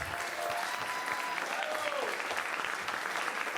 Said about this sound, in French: un tonnerre d'applaudissements pour la Troupiade